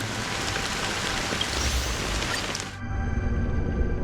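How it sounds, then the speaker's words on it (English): Steady rain falls in the Honkai Star Rail video game, a dense hiss that cuts off abruptly near the end, leaving quieter ambient tones. "How long has this rain been ongoing?"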